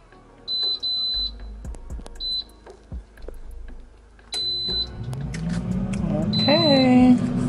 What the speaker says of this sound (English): Now I'm gonna go ahead and put this in my air fryer for 18 minutes.